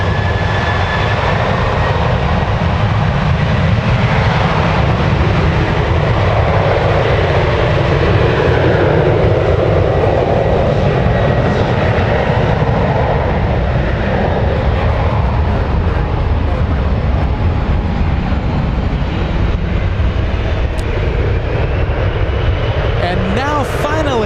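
A United Airlines Embraer E175 jet powering up at San Francisco International Airport, a loud continuous engine roar building and holding for the whole stretch, with some talking over it.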